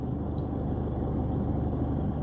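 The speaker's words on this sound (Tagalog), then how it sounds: "At saka yung konting tunog ng makina, naririnig po ninyo." Low steady hum of a running car engine heard from inside the vehicle with the air conditioning on, constant and moderately quiet without variation.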